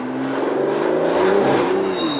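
An Aston Martin DB11 V12 with 600 horsepower to the rear wheels accelerates on a wet road, its engine note climbing steadily and loud from inside the cabin, with tire hiss underneath.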